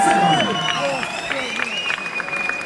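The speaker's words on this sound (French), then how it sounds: "vous pouvez applaudir les danseurs plus fort" Concert crowd applauding the dancers, a busy layer of clapping and cheering running throughout while voices and whistle-like calls rise above it.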